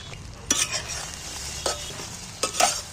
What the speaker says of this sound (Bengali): ডিম আর সয়াবিন আমি ভালো করে নেড়ে ভেজে নেব